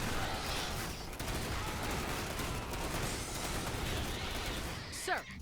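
Auto shotguns fire in Starship Troopers Terran Command, a dense, continuous crackling fusillade of rapid shots with battle noise, ending with a short whistling burst.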